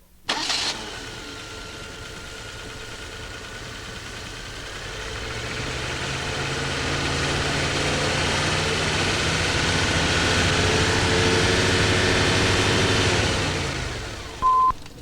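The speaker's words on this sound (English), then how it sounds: "Start the engine and slowly increase the engine speed." A Lucas-equipped car engine cranks and catches, idles, then slowly climbs in speed to a steady higher hum before a sharp click near the end, during a DC dynamo charging system test.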